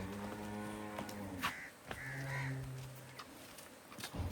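A large crossbred cow moos twice, long low calls close by, with a calf nearby on the farm and no talking.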